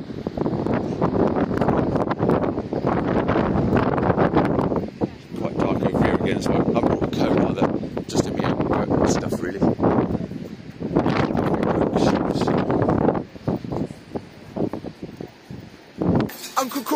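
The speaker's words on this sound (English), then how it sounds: "The temperature's not too bad, but it is actually quite windy." Strong wind blows outdoors, buffeting the microphone in loud, gusty rumbles throughout, with a person talking over it.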